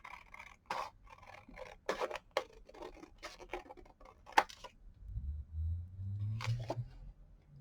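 Scissors cutting through a Christmas card, a series of crisp snips and papery scrapes close up at an irregular pace, with a faint low rumble near the end.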